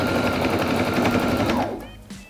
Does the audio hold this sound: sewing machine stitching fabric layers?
yes